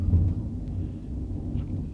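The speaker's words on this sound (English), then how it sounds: "And if you hear that thunder, that is right outside my window." Low, rolling thunder from a storm just outside a window, a deep rumble strongest at the start and then a steady murmur through the rest.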